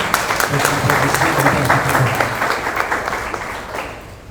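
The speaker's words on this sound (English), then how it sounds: "please can we have a good round of applause" Loud audience applause for a speaker at a book discussion panel, dense clapping from a sizable crowd that holds steady and then gradually thins and fades toward the end.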